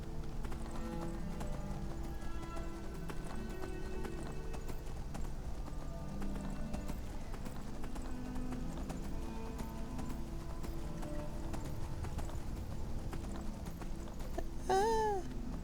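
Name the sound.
horse hooves and neighing in the video game Skyrim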